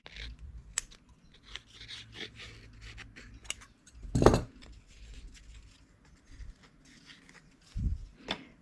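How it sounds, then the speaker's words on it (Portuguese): Scissors snip through knitting yarn during work on a machine-knitted baby blanket or shawl, a sharp crisp cut standing out clearly near the middle amid quiet handling rustles and a few faint clicks. "Seguro o fio, introduzo a tesoura e corto."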